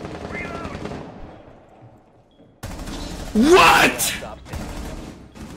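Automatic gunfire with heavy recoil in an online shooter game, coming in dense loud bursts after a quieter opening, with a person's exclamations and speech mixed over the shooting.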